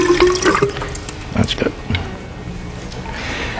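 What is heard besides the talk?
deionized water being poured into a solution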